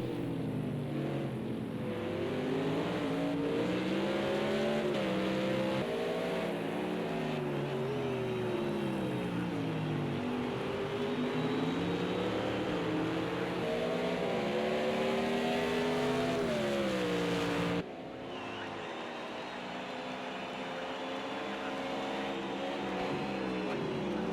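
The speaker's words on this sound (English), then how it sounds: "Fantastic noises from all of these cars." Several 1998 FIA GT race cars in the Project CARS 2 racing game at the Nürburgring GP circuit, their engines loud and close, revving and shifting in rising and falling sweeps as cars run together, briefly dropping off near the end.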